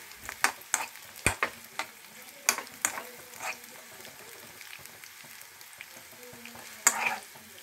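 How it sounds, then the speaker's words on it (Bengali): Ghee stirred into vegetable rice frying in a pan, a soft sizzle running underneath as a spoon scrapes and knocks against the pan in scattered sharp clacks, close by with no talk. "এবারে ঘিটা দিয়ে দিচ্ছি।"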